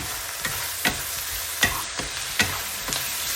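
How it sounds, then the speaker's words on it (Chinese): Pork belly stir-fried in a wok with light and dark soy sauce and oyster sauce, a steady sizzle with sharp spatula scrapes and stirs recurring every half second or so, close and without talk. "咱们将五花肉炒熟以后，加入3勺生抽、1大勺老抽、1大勺蚝油，然后继续翻炒"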